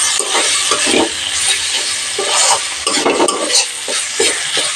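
Chopped tomatoes salted and sautéing in a kadai for aloo matar paneer, loud close sizzling with repeated scraping stirs of a spatula at an uneven rhythm, no talk.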